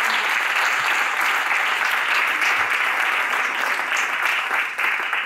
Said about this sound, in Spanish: Un aplauso por el trabajo